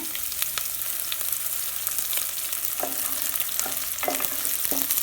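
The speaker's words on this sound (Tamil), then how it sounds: "வெங்காயம் லைட்டாக வதங்கிடுச்சு" Onions sizzle steadily in a hot pan for an amaranth greens stir-fry, with the occasional scrape of a stirring spoon against the pan, close and continuous.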